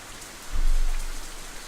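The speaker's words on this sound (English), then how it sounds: "rest of my voice is completely drowned out by an even heavier burst of rain" Heavy rain pours steadily in Katawa Shoujo, a dense hiss of drops, with a low rumble of thunder swelling and fading in the middle.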